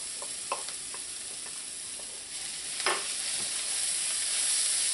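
Smoked herring and softened, browning onions fry in a pan with a continuous close sizzle. Scattered clicks and scrapes of stirring punctuate it, and it grows slightly louder toward the end, with no talk.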